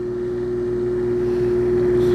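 A 7,500-watt diesel generator on a 2002 Holiday Rambler Ambassador 38 PBT Class A diesel motorhome runs with a steady, loud, even hum and a strong constant drone, unbroken and alone with no talking.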